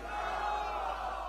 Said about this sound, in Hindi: जोरदार ताली बजाओ और नारा लगाओ